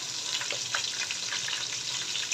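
Green chillies frying in hot oil as the base for chicken biryani, a steady bright sizzle with small crackling pops, continuous and close throughout with no talk.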